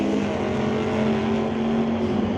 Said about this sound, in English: Great liftoffs for both of those cars.